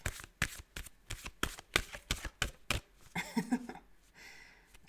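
Tarot cards riffled and shuffled in a rapid run of crisp, close bursts, roughly a dozen quick slaps, then a looser scattering shuffle and a softer rustling swish.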